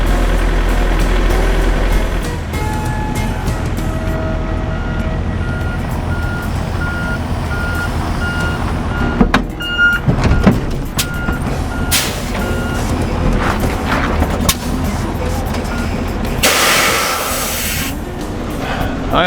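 Semi truck backing up to hook onto a trailer, its reversing alarm beeping steadily over a loud diesel rumble, with bursts of air-brake hiss and spray near the end.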